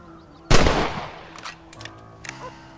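A single loud rifle shot in Red Dead Redemption, sharp and close with a short echoing tail, followed by faint clicks and quiet ambience.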